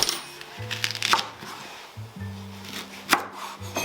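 Knife cutting a leek on a wooden board while preparing Peking-style duck, a few soft crisp chops at an irregular pace, close and fairly quiet, with low music playing underneath.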